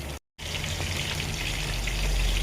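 Chicken meat fries in a pan with a dense, continuous crackling sizzle, broken by a brief silent gap near the start.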